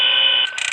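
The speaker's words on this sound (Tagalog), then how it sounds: "Bakit nag-alarm?" Alarm going off in the Five Nights at Freddy's 3 video game, a loud, steady electronic tone that breaks into a harsher buzzing rattle near the end.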